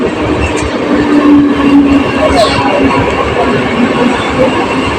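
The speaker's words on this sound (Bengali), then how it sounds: "পুরো ফাঁকা ট্রেন ঢুকছে দেখতে পেলেন বিশালপাড়া স্টেশন" An empty passenger train pulls into Bishalpara station with a loud, continuous rumble of wheels and carriages rolling close by.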